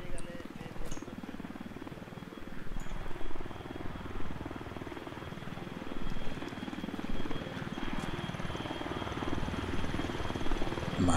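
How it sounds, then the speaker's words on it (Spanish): Support helicopter in the ArmA 3 military video game, a continuous rotor and engine drone with a rhythmic low thump, steady and fairly close throughout, under occasional radio-style background sounds. "Vale, helicóptero de apoyo, entiendo"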